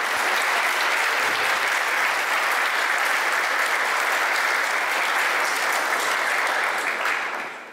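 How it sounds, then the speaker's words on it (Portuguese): An audience at a campaign lunch for Brazil's 2018 elections claps steadily in dense, continuous applause that holds strong for several seconds and then tapers at the end, with no voices over it. "uma salva de palmas para João Amoedo"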